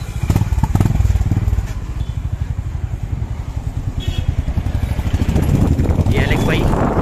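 A Bullet-style motorcycle on a test ride, its engine thumping in a loud, steady low rhythm close by, with the throttle rising toward the end and faint voices in the background.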